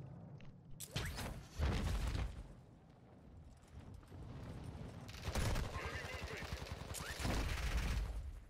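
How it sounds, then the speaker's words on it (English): Enemy gunfire in the shooter Warzone 2: repeated bursts and rapid rattling volleys of shots, some close and loud, with a lull between, under ongoing gameplay noise. "He's shooting at me"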